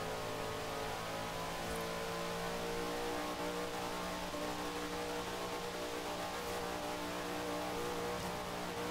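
A car's engine in Forza Horizon 3 with the Hot Wheels expansion holds a steady, faint high-revving drone under road noise during a race, continuous and even with no talk.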